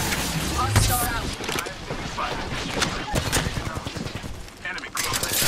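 Gunfire in the shooter game Apex Legends, rapid bursts of loud, crackling shots mixed with impacts and mechanical clatter, dense and close, with a character's voice speaking over the fighting.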